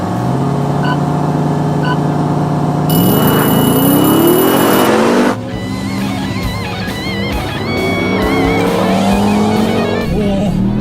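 A Ram TRX pickup launching in a drag race, its engine roaring loud and close with rising revs through several gear changes, a second vehicle's engine blending in and a faint voice briefly heard.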